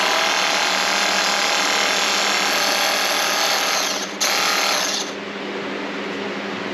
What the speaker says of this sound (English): you squeeze the trigger and the pump spits out whatever just went through the pump